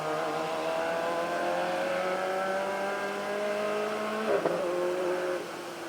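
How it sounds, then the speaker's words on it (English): Rally car, a 305, on stage 14 of the Mull Rally 2019, engine droning steadily at a distance before braking brings a brief burst of exhaust pops near the end, then the noise drops away. "Beautiful pop of the exhaust there."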